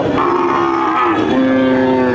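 A cow at a cattle market lets out a loud, close, sustained moo that shifts pitch partway through and carries on for about two seconds.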